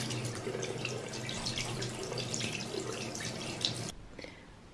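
Running tap water splashes steadily as henna is washed off hands at a sink, a continuous close gush that cuts off near the end, followed by a few faint drips.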